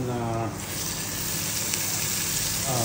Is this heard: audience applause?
no